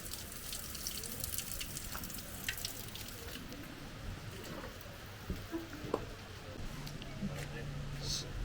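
Continuous trickle and splash of running spring water with small drips, fairly close, under faint background chatter in a mountain village.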